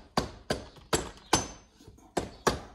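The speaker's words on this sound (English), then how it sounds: "Rubber mallet, just give it a little tap." Rubber mallet tapping on a part during the engine build of a 1937 New Imperial motorcycle: six firm, evenly spaced knocks, each a short thud with a brief ring-out, close and alone.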